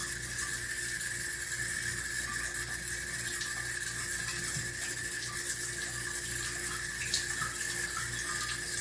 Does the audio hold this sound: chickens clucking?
no